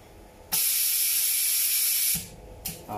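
A bonding press machine heating at around 170 degrees lets out a loud, steady hiss of about a second and a half that starts and stops abruptly, followed by a couple of short fainter puffs.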